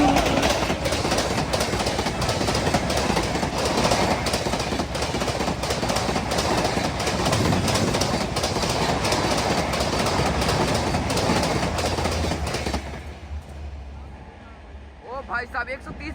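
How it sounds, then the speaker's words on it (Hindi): Barauni–New Delhi Mail train racing past at about 130 km/h, a loud continuous rush of wheels with rapid clickety-clack of the coaches close by, then fading abruptly as the last car passes into quieter background. "भाई साहब 130 पे ओवरटेक करके गई बरौनी न्यू दिल्ली मेल"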